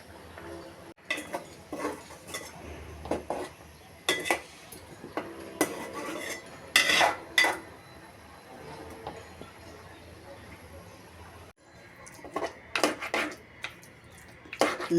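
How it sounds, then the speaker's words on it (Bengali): Raw green olive chutney with a little water being stirred in a pot on a stove, with scattered metallic scrapes and clinks of a spoon against the pot coming in irregular bursts, fairly close and moderately loud. "নেড়ে ছেড়ে চাটনি বানিয়ে নিব।"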